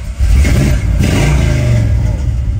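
A 1964 Pontiac GTO four-speed with a Hurst shifter revs hard close by, its loud, rough V8 roar filling the whole stretch with a brief dip before climbing again.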